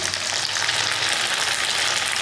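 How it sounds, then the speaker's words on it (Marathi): Semolina kurdai fryums fry in hot oil with a steady, dense, bright sizzle that holds evenly throughout, close and alone without any voices. "आता आपण हे तळून बघूया किती छान फुलतात"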